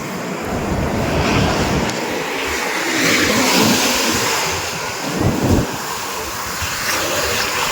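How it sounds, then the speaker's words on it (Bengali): Sea waves wash onto Marina Beach in Chennai with a continuous loud roar, roughened by wind buffeting the microphone, and one surge swells briefly near the end. "ঢেউটা আসছে হচ্ছে এতটা জায়গা এতটা আসছে"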